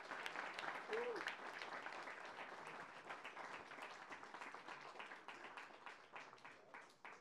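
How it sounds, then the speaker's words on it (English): Audience applause during a talk by a 101-year-old WW2 survivor, a fairly quiet, continuous clatter of many hands clapping that thins slightly toward the end, with a brief voice sound early on. "let's hear a round of applause for Jack."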